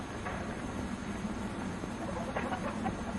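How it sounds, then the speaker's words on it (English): White leghorn hens and a rooster cluck faintly in a coop at dawn as they wait for breakfast. A few short calls rise over a steady, hissing background. "They are white leghorn chickens, wide awake now, and waiting for breakfast."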